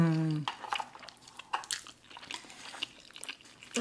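Spicy black bean noodles being bitten and chewed close to the mic, a string of soft wet bites and chews after a brief voiced hum, with small mouth sounds throughout.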